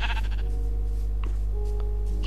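A sheep in the Minecraft video game bleats a few times in short, faint calls over a steady low in-game hum, with no talking.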